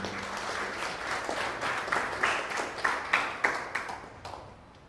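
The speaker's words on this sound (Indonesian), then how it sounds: "Tepuk tangan untuk Bapak Ibu guru." Audience applause for teachers at a school ceremony launching a digital lesson-plan app, a dense crowd of clapping that swells with sharp accents and then thins toward the end, with no talk over it.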